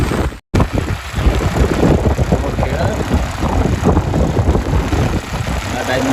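A tractor ploughing a field in the rain gives an engine drone mixed with rain hiss, with a brief dropout near the start, and a voice talks over it.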